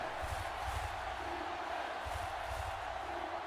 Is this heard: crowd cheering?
yes